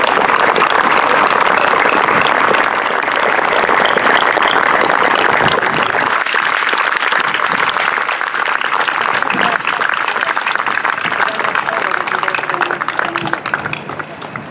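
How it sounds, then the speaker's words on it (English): Crowd applause for military veterans at a Brooklyn Memorial Day ceremony, a loud, steady wash of clapping that holds for the whole stretch and thins slightly at the very end. "Let's give all these people a round of applause."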